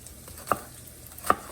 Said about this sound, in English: you're gonna slice jalapeno